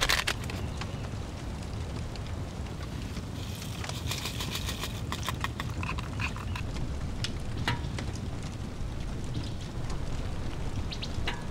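A storm rages outside a OneTigris hot tent, heard from inside as a steady dense rush of rain and wind beating on the fabric, with scattered sharp drop taps throughout and no voices.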